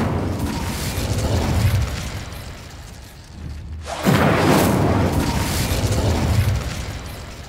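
Spell effects from the Hogwarts Legacy video game: an Incendio fire spell bursts with a loud whooshing boom, layered over busy game noise and a roaring burst partway through.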